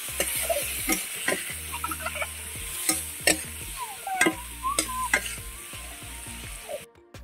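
Ground spices sautéing in a hot pan for a Bengali cauliflower dal, a steady close sizzle with repeated scraping stirs and light clinks of a spoon against the pan, no talking.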